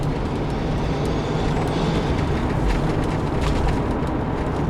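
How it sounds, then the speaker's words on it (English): A 1993 Toyota Supra JZA80 turbo spools up with a dense, loud engine rumble and a rising whistle over the top, heard close and steady throughout. "I can definitely hear the turbine spooling up"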